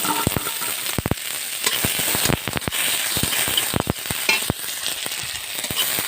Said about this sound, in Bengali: পেঁয়াজটা লাল লাল করে ভেজে নেব